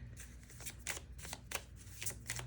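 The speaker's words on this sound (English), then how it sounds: "So I'm going to shuffle here." Oracle cards being shuffled by hand, a string of quick papery riffles and slaps repeating in a steady rhythm, close and clear with no voices.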